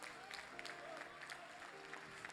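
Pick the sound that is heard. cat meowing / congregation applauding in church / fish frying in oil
congregation applauding in church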